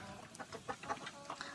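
A hen clucks in short, irregular bursts, fairly close, with soft rustling and faint background noise between the calls.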